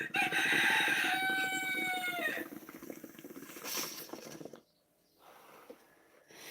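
A rooster crows once, loud and fairly close, with a long drawn-out call, followed by softer background rustling and a faint later sound, with no talk.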